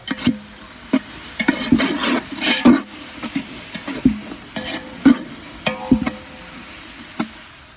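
Oil heating in a pan and frying, with a bright sizzle broken by loud, irregular pops, clatters and stirring knocks close by, and no one speaking.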